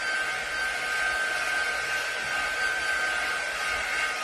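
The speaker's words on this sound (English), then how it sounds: "More like a hair dryer on a medium heat to dry your paste" A hair dryer on medium heat blows steadily on drying craft paste, giving a constant, even whoosh with a faint whine and no other sounds.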